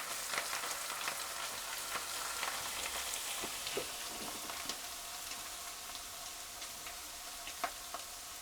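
Butter chicken sauce with ginger gently frying on low heat in a pan, a steady soft sizzle with scattered small pops and crackles, close and continuous with no voices.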